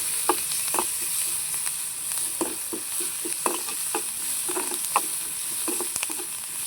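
Onions with a light pinch of turmeric sauté in a pan for an egg stir-fry, giving a steady close sizzle punctuated by regular spatula scrapes and taps.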